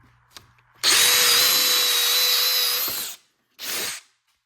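A DeWalt drill boring with a 1/2 inch bit at speed 2, one loud sustained whine of about two seconds, then a short second burst after a brief pause, close to the microphone.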